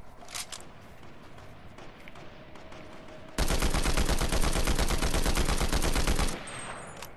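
Fortnite's Combat Assault Rifle fired in one loud, sustained automatic burst of about three seconds, preceded by a few faint, scattered shots and quieter game ambience.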